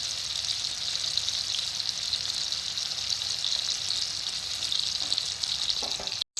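Chicken pieces frying in oil over a high flame for a dhaba-style chicken fry, a steady, close, bright sizzle with crackling pops that continues without pause until a brief clatter and a sudden cut at the end.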